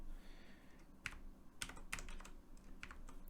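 Quiet, close typing on a computer keyboard as a product title is entered, with irregular clusters of light key clicks over a faint background hiss.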